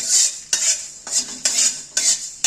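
Coriander and cumin seeds dry-roasting in a pan, heard as rhythmic scraping strokes of a utensil across the metal, about two per second, close and crisp, with no talking.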